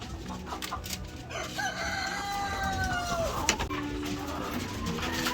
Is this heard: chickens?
yes